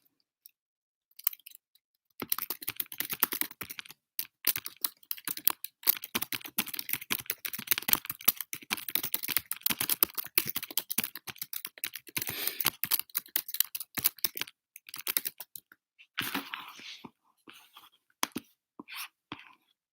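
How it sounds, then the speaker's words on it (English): Typing on a computer keyboard: a long, dense run of rapid keystrokes that starts after a brief quiet opening and continues fairly close and steady, with a few short pauses near the end. "Even better than that, I'm going to type it out."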